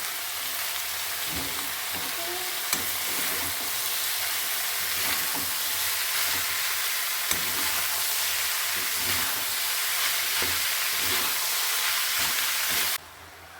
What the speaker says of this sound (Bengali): খুব ভালো করে বাঁধাকপিটা ভেজে নিয়েছি